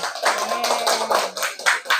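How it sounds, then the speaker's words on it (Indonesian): A primary-school class applauding a group in an Arabic lesson, a burst of many hands clapping in quick uneven rhythm, close and lively, with a faint tonal voice underneath. "tepuk tangan untuk kelompoknya"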